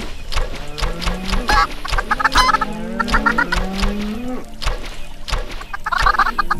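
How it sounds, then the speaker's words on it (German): Chickens in the Minecraft video game cluck repeatedly in short bursts, loud and close, with several squawks overlapping across the scene and no talking. "So, ein paar Hühner rausgeschossen."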